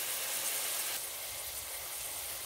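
Steady, fairly quiet hiss of kale sizzling in a hot pan, a constant crackling sizzle with no talking.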